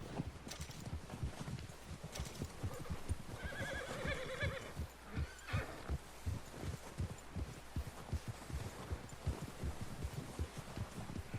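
Horse ridden at a steady pace in Red Dead Redemption 2, rhythmic clip-clop of hooves with a whinny partway through and faint background rumble, no talking.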